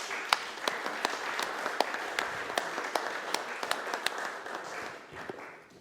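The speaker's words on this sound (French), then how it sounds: "je m'associe évidemment aux applaudissements" Applause from an audience at the close of a lecture on civilization at an institute, a steady patter of many hands with sharper individual claps standing out, fading slightly at the end.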